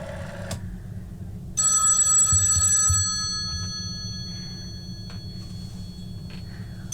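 A telephone bell rings loudly in a stage drama setting, a sustained bright ring lasting over a second before fading, preceded by a brief clink and followed by quieter low rumbling background.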